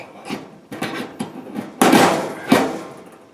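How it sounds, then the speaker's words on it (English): Light bar mounts snapping onto the ridges on the side of a light bar, a series of sharp plastic clicks and knocks, the last two loudest and closest. "It's pretty easy, they just snap in."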